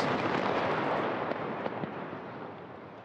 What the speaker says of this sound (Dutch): Met zware dynamiet knallen Denderen eerst 2 van de 3 schouwen naar beneden.